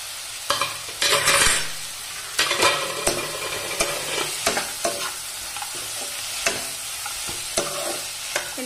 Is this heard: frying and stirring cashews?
yes